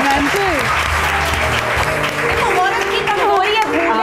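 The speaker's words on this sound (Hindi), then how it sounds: "तालियां हो जाए भाई" A talk-show studio audience breaks into continuous applause, a thick, steady clatter of many hands, while voices chatter and speak over it throughout.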